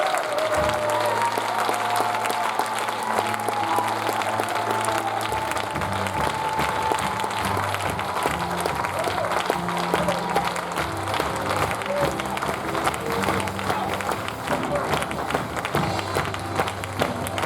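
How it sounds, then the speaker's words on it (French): A church congregation applauding and cheering loudly, a dense continuous roar of clapping with voices mixed in, close and sustained throughout, with a low musical hum underneath. "Est-ce qu'on peut encore acclamer le Seigneur très fort?"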